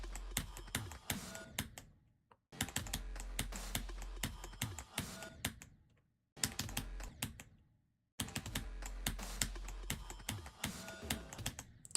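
Rapid keyboard clicking from a gamer playing a hard extreme-demon level, loud and close, in dense bursts broken by short pauses of silence.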